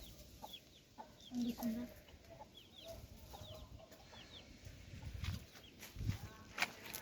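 Chickens cluck softly off and on amid faint background noise, with scattered small chirps and a few low, soft clucks nearby.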